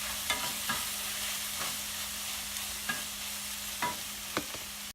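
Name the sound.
shrimp cutlet filling sautéing in a pan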